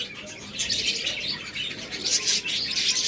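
A pair of lutino-mutation pet birds kept for sale chirping with bright, busy high-pitched calls, close and continuous, with faint bird activity behind and no talking.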